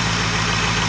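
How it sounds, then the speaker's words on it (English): A 6.0 Powerstroke diesel engine idles on a cold start in real cold weather, a loud, steady, dense rumble with even low pulsing and no talk over it. "engines idle, between 600 and 700 RPM when it's real cold like this for any length of time"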